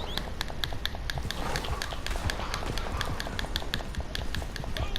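A galloping horse in the video game Red Dead Online beats out rapid, regular clip-clop hoofbeats, crisp and continuous at moderate loudness with no talking.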